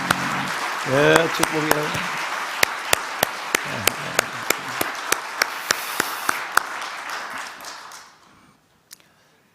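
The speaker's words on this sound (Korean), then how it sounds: "우리 박수 한번 할까요?" A church congregation at a Sunday service claps for the choir and its conductor. Crisp, loud claps ring out over a voice and the crowd before the applause thins and fades, leaving one late clap.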